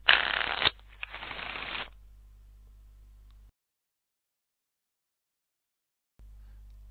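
A digital deck of cards is shuffled in a tabletop game simulator, two short bursts of rapid riffling noise, then a low hum and silence.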